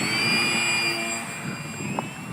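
RC model jet, a 64mm T-45 Goshawk, running at high throttle outdoors on a windy day, a loud steady whine with a high tonal edge and rushing air throughout.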